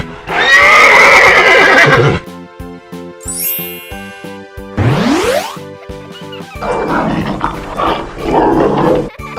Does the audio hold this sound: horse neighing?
yes